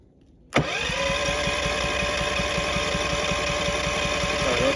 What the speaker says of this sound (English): And to start, we're gonna push the button twice.